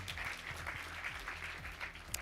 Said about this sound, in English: So just a round of applause quickly for everybody.